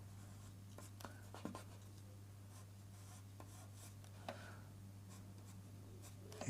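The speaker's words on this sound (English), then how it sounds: "You can go in with your pencils" Pencil scratching over airbrushed artwork, faint scribbly strokes in short bursts against a steady low hum, with a few sharper taps scattered through.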